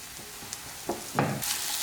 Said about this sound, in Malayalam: ഇതെല്ലാം കൂടിയിട്ട് നന്നായിട്ട് വഴറ്റി കൊടുക്കുക, പച്ചമണം മാറണ വരെ.